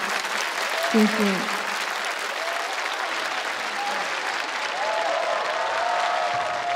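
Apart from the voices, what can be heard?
studio audience applause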